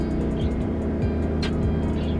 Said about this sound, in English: We named this truck Mona because it likes to moan.